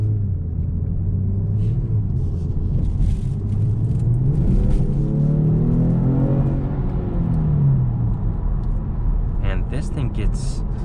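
A 2021 Genesis G70 3.3T with its turbocharged engine accelerates up to the speed limit, a loud rising engine rumble and road noise heard from inside the cabin, with someone talking over it throughout.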